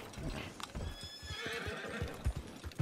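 Hooves clip-clop at a quick gallop while a horse whinnies in Red Dead Redemption 2 Online, with a steady rhythmic drumming and a bright high tone over the top.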